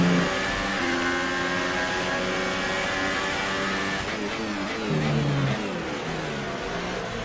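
An F1 car engine in the F1 2018 racing video game at the Spanish Grand Prix, droning steadily at high revs with rising and falling pitch as it shifts, loud and close with no talk over it.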